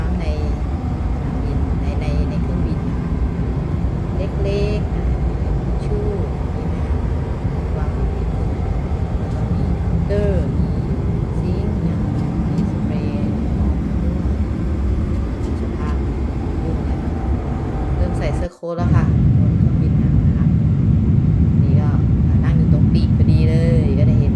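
Cabin ambience on a Thai Airways flight: a loud, constant jet drone fills the space without a break, apart from a brief dip near the end, with faint voices mixed in.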